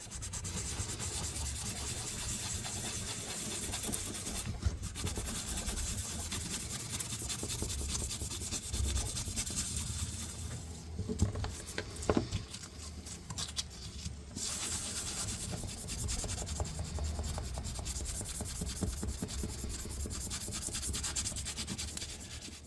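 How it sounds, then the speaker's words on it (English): Fine 1000-grit wet-dry sandpaper rubbing rust off metal, a steady close back-and-forth scratching that runs continuously with brief pauses and no speech. "Now I'm going to go to some really fine grit wet dry and"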